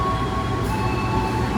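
The Fajar Utama Solo train's locomotive waits on track 1 at Pasar Senen station, giving a steady, close, heavy diesel rumble with a faint tonal hum throughout.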